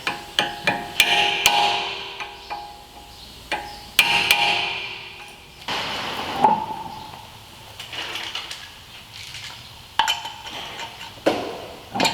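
A hammer strikes the axle nut of a 2014 Honda Accord to stake it, with about a dozen sharp metallic blows in irregular bursts, close and loud, ringing briefly between hits.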